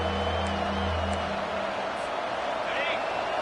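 A home crowd roaring and cheering at a college football game during a third-down defensive stand, a steady, dense wall of noise with a commentator talking over it.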